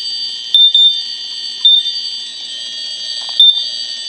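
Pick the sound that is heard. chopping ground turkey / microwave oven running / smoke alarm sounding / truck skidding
smoke alarm sounding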